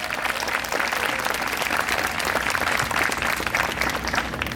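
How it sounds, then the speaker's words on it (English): Steady, dense applause from a large crowd at the opening ceremony of the NAMIWalks Silicon Valley 2025 walk, loud and sustained throughout without any speech over it. "Let's give them a big round of applause."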